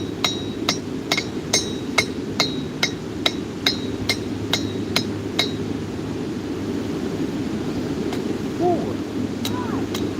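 A steel rivet is struck by a hammer in a blacksmith's shop: a steady run of about fifteen sharp, ringing metallic blows at even pace, then quieter clinks, all over a constant low forge roar.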